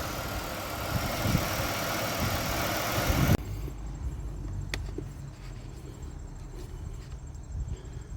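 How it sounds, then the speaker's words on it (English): A 2002 Buick LeSabre engine idles steadily with a low rumbling hum; a louder, noisier stretch at the start drops to a quieter idle. "Listen to this engine."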